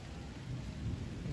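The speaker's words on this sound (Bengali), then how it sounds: "আর বাইরে বিদ্যুৎ মেঘও আকাশে ডাকছে অনেক।" Low thunder rumbles on through a rainstorm, with rain falling steadily nearby, the whole sound faint and continuous with no voices.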